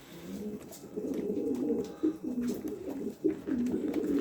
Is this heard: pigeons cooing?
yes